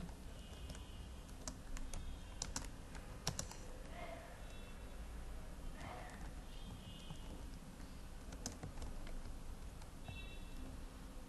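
Typing on a computer keyboard while writing PHP code: scattered soft key clicks and taps, faint and somewhat distant, over a steady low hum of background noise, with no talk.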